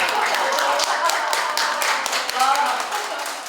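Brief, dense clapping from an audience at a union education lecture, steady at first then tapering off, heard alongside talking.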